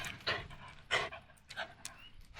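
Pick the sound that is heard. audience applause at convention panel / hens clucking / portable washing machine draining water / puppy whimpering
puppy whimpering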